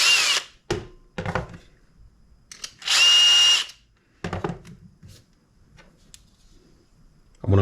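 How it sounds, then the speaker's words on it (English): A power drill bores a hole through metal in short bursts, each high whine stopping after a second or so, with clunks and handling noises in the quiet gaps between. "So now I drilled a hole through the metal."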